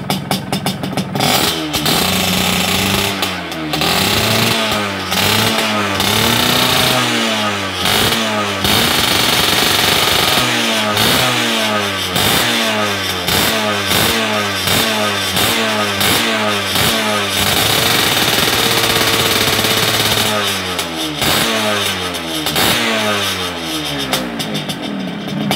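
A Yamaha RX King two-stroke motorcycle fitted with a racing carburetor revs hard again and again, with loud rising and falling engine blasts, a few brief drops to idle between throttle bursts, and close, crackling exhaust throughout.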